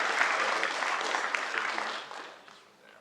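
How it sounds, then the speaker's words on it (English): A conference audience claps for a sponsor, a dense burst of applause that holds steady at first and then thins and fades after a couple of seconds, heard from within the hall. "Let's give a big round of applause for Victoria Metrics."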